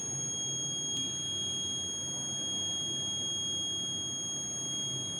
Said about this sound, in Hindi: जैसे ही ये मोशन डिटेक्ट करेगा तो उस कंडीशन के ऊपर अलार्म भी एक्टिव कर देगा